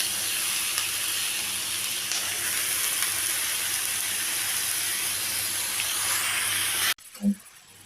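Masala sautéing with salt in a pan for crab gravy, a steady, loud frying sizzle that runs unbroken before cutting off abruptly, followed by a brief soft knock.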